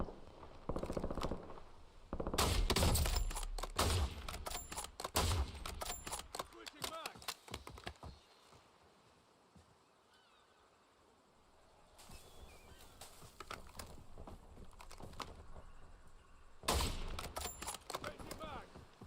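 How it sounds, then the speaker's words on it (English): Warzone battle-royale gunfire: clustered rapid bursts of shots, loud at the start, dropping to a quiet lull, then returning in further volleys, with someone talking in the background throughout. "He was shooting at somebody."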